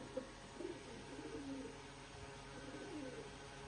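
Hen pigeons in a loft coo in soft low murmurs, several overlapping calls close by over a steady background hum, with no talking.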